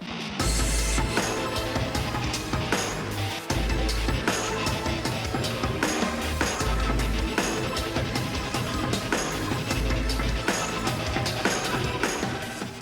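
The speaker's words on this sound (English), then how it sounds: "Even those weird organ noises you hear are just drums." Dense electronic drum pattern, vocoded so the drums produce odd, pitched organ-like tones, layered over a repeating deep bass pulse, steady and loud, no talking.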